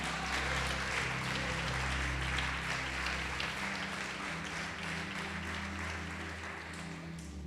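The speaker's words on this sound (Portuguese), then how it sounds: "Pode aplaudir o Senhor e glorificar." Church congregation at a Brazilian worship service applauds in praise, a broad, steady roar of clapping over a low droning hum, continuing evenly and easing slightly toward the end.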